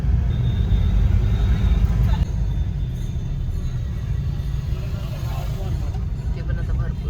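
Busy street traffic at a crowded crossing during the Ashadhi Wari pilgrimage, with people riding past on motorbikes, a continuous loud engine rumble and road noise, while a person talks over it.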